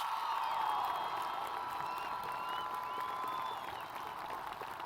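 An audience at a high school graduation ceremony applauds in a large hall, a steady wash of many hands clapping with a few whoops and whistles, slowly tapering off.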